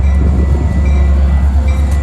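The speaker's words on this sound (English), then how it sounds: "videotaping Metro train going from Chicago Union Station to Big Timber Station on the Milwaukee District West line" A westbound Metra commuter train on the Milwaukee District West line in Elmwood Park rumbles past, a loud, steady, close roar of rolling wheels and cars with no talking.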